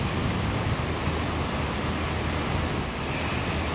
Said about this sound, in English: We'll listen to the water flow behind us and appreciate it.